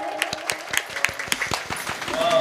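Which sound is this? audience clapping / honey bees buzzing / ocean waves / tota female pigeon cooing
audience clapping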